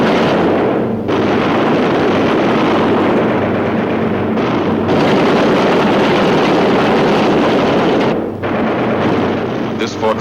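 Anti-aircraft flak bursting around a B-17 Flying Fortress in wartime flight, a loud continuous roar of engines and explosions filling the whole stretch, with brief dips and renewed blasts.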